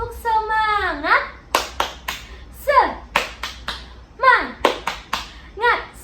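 Second-grade children in a classroom follow their teacher in the "tepuk semangat" clapping chant. Sung syllables alternate with sharp, close bursts of hand claps in a quick repeating rhythm, with several claps landing in tight clusters.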